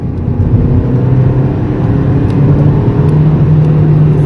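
A Renault 19 engine, naturally aspirated with no turbo, revs and pulls under acceleration, giving a loud, steady, low engine drone that holds through the whole stretch.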